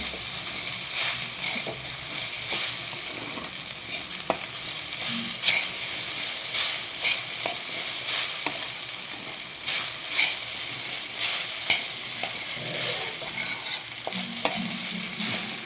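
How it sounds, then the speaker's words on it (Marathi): Crushed peanuts are stirred into a frying sabudana khichdi mixture in a pan, with continuous scraping strokes and intermittent clicks of the spoon over a gentle sizzle. No one speaks. "हा शेंगदाण्याचा कूट टाकून घेऊ शेंगदाण्याचा कूट व्यवस्थित हलवून घेऊ"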